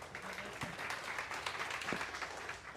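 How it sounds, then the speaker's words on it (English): Audience applause at a 1 Million Cups Clermont community meeting, a steady wash of clapping from a room of listeners that holds evenly throughout, with faint voices mixed in. "You can clap for him."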